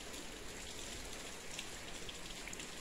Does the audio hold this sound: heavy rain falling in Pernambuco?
yes